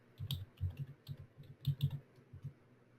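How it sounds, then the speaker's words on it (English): Quick, light clicks of keys on a computer keyboard as a search term is entered, an irregular burst of close taps over a few seconds with no voices. "and I'll type in marketing."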